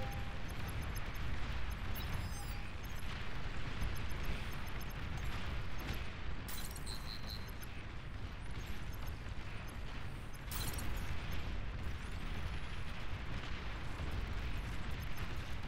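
Continuous heavy explosions and artillery booms from a large battle in the strategy game Beyond All Reason, a dense, roaring barrage with layered blasts and mechanical effects, loud and unbroken.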